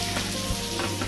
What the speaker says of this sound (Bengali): সেই গরম তেলে দেওয়া হলো এই কালো জিরে আর এই কাঁচা লঙ্কা ছেঁড়া